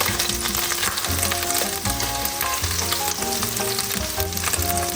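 Mushrooms sizzle loudly and continuously in hot butter in a pan, a dense crackling fry close up with steady spitting throughout.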